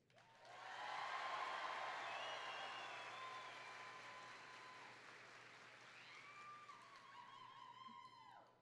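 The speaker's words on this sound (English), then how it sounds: "your job is going to be to applaud and cheer with a whole lot of energy" A large audience at a university spring commencement rehearsal applauds and cheers energetically, a sustained wash of clapping with scattered whistles and shouts that gradually tapers off.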